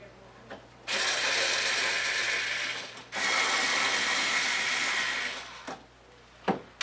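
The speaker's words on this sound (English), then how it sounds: "We're going to remove the 4 screws at the meter end." Power driver backing out the cover screws at the meter end of a power inverter, two loud sustained buzzing runs of about two seconds each with short pauses and faint clicks around them.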